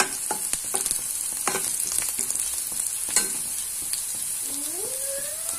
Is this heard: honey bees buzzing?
no